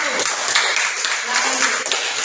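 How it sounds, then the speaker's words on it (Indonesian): Students in a science class applaud a presenting group. The clapping is brief and dense, with voices talking over it throughout. "silakan beri tepuk tangan untuk kelompok 1"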